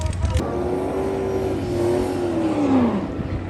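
A Vortech-supercharged drag race car does a burnout in the staging box at PIR, its engine roaring loud and steady with a sustained whine that rises and then drops off, heard alone.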